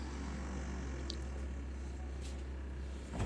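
A Viking refrigerator with a fault running a constant low hum with steady tonal drone, fairly loud and unchanging, with a faint knock near the end.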